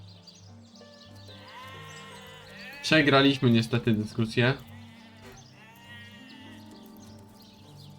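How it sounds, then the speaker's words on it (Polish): Sheep bleating in the fantasy role-playing video game Divinity: Original Sin, a burst of several loud, close bleats in quick succession over quiet ambient game music, with someone talking before and after. "A tu mamy owcę."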